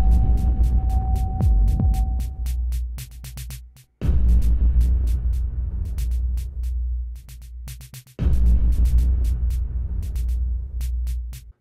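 A looping electronic music pattern from the Rytmik 2 app repeats about every four seconds, with a deep throbbing bass hum and quick clicking percussive hits whose notes vary slightly between passes, loud and without voices.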